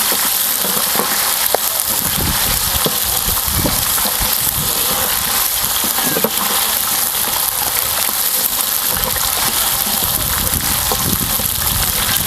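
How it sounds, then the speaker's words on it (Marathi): Ginger and garlic hit hot oil for a mutton curry cooked over a wood-fired village stove in a big batch for 150 people, giving a loud, steady, dense sizzle that runs unbroken and close throughout. "तेल गरम झालेले आहे तर त्यामध्ये ना आपण आलं लसूण घालूया"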